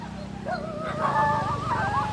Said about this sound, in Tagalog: Ang daming aso.